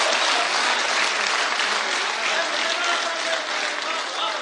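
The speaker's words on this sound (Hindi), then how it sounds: "एक बार जोरदार तालियों से इस्तकबाल किया रहा है" Loud, sustained audience applause at a Hindi-Urdu poetry gathering, a dense wash of clapping that holds steady for several seconds with no talk over it.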